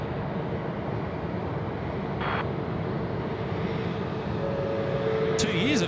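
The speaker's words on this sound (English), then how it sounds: "Jetstar 141, runway 16 right, clear for takeoff" A Jetstar airliner takes off at night from runway 16 right at Sydney Airport, producing a loud, steady jet roar that holds throughout without letup.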